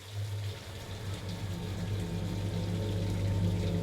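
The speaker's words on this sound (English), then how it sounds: "Rain hammered the windshield" Heavy rain hammers a car windshield on a dark night, a dense, steady wash of drops that swells slightly louder over a low droning hum, with no voices.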